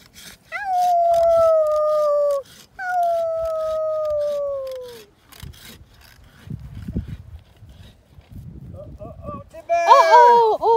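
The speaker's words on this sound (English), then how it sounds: "You gonna howl for her?" A dog howls in long, steady, drawn-out tones at a Christmas tree farm. Two howls come close together, followed by rustling and sawing-like scraping, then a brief burst of excited voices and higher yelps near the end.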